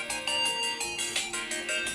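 A phone ringtone plays an incoming-call melody in a steady, repeating rhythm of bright pulses, loud and close, with no talking over it.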